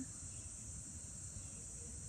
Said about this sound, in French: ou les cigales, ou les criquets